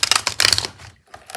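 Tarot cards shuffled by hand overhand rather than riffled: a quick run of crisp, papery slaps and rustles close by, then a short pause and a few lighter flicks, with no talking.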